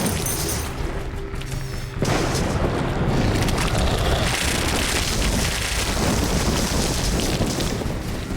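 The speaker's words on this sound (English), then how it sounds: "The ion storm has started." An ion storm breaks out in the video game The Riftbreaker: a loud, roaring wind-like noise surges in suddenly and holds as a dense, booming rush to the end.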